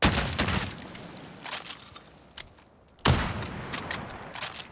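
Rapid bursts of gunfire from a hybrid weapon in Call of Duty Warzone, loud and close with sharp reports, then a quieter gap before another heavy volley erupts.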